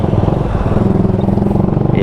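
A Suzuki Gixxer motorcycle engine chugs loud and close with a steady pulsing idle-to-low-rev beat as the rider works the clutch while slowing, no speech over it.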